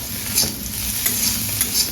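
Rice being fried and stirred in hot oil in a home kitchen pan over a gas flame, a steady close sizzle with repeated scraping stir strokes, no voices.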